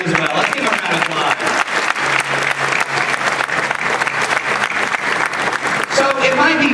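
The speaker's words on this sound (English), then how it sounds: "Let's give him a round of applause." Sustained, dense audience applause fills a live presentation at SeaWorld Orlando, steady and loud for several seconds, honoring a man's rescue work with a dolphin and her calf.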